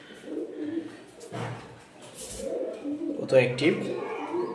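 Pigeons let out onto the floor give soft, intermittent coos and rustles close by, heard beneath someone talking.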